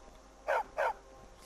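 A dog in Skyrim gives two quick, clear barks in close succession, fairly near and moderately loud against quiet background ambience.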